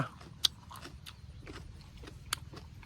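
A fresh luffa gourd is bitten and chewed up close, with a couple of crisp, sharp bites standing out above quieter, soft chewing.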